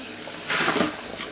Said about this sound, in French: Donc du coup je mets de l'eau dedans.